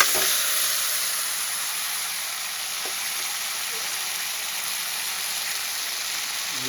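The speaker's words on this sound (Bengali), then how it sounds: "আমি আরেকটু তেল দিয়ে সেদ্ধ করে রাখা আলুটাকে একটু ভেজে নেব।" Boiled potatoes fry in oil in a pan, a steady, close hiss and sizzle with a couple of faint clicks, continuous and even throughout.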